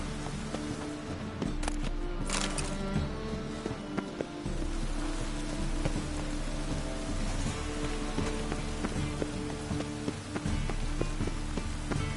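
Rain falls in The Witcher video game as a continuous, even hiss of drops on surfaces, with a low, steady tonal bed beneath and no speech.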